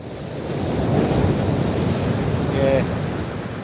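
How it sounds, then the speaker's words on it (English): Waves wash continuously onto a shingle beach, a steady broadband roar with wind noise, swelling and easing slightly, with a faint brief tonal whine near the end. "all I could hear was this waves going on the shingle"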